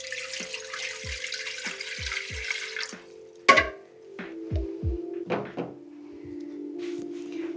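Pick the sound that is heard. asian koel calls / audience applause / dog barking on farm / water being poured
water being poured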